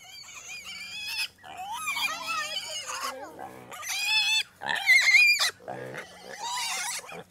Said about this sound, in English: All right, we got our two new pigs here.